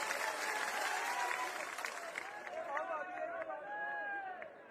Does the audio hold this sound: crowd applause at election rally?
yes